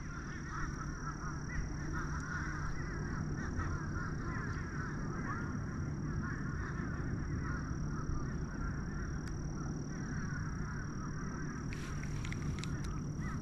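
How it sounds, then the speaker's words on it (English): Crows caw in the background of a Florida lakeside evening around sunset, mixed with other bird calls over steady outdoor ambience, with a burst of sharper calls near the end. "Are all the crows in the background."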